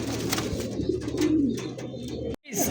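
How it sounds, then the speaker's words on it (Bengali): Caged pigeons at a pigeon farm coo steadily in soft, low, throaty rolls, close by and continuous, with a brief break near the end. "একদম পাংখা একটা কবুতর, যারা চিনে তারাই কিনে।"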